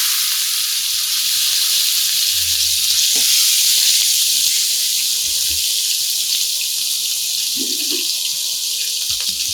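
Two mutton legs laid into a pan of hot oil and spices, producing a loud, steady hiss of frying with a few low thumps and scrapes from the meat being placed and shifted.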